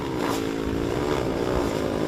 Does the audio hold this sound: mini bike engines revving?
yes